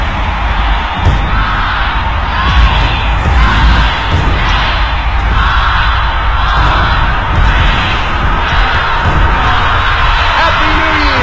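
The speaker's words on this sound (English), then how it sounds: "The ball is moving, the crowd sees it, you can hear them." A dense New Year's Eve crowd roars continuously as the ball moves, with loud cheering, whoops and yells merging into a sustained wall of noise.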